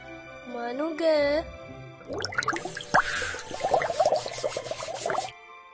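Tap water running steadily into a basin while teeth are brushed, a continuous splashing flow with faint drips, following a brief cartoonish vocal sound at the start.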